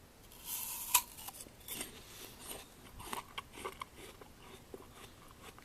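Someone bites into a freshly peeled apple from an orchard in Mungyeong, Korea, giving one sharp, close crunch followed by quieter chewing and crisp crackles in a hushed room.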